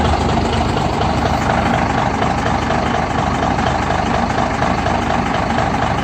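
A Cummins 335 diesel with a small cam idles steadily and loudly after a cold start on a truck, a dense unbroken clatter and rumble up close.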